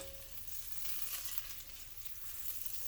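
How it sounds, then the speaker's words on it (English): Butter sizzles steadily in a hot pan, a soft, even crackle and hiss heard close up with no talking. "We're starting to see the butter sizzle."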